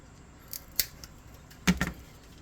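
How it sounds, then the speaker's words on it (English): Scissors cut the end off a gel super glue tube: a couple of sharp, close snips with small clicks, against a quiet background. "You snip the end off and see."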